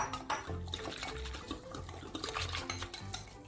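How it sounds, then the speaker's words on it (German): Ground flaxseed is stirred with water in a bowl for a gluten-free yeast dough, giving repeated scraping, clinking strokes of a utensil against the dish with splashy liquid sounds in an uneven rhythm. "gießen die entsprechende Menge Wasser dazu,"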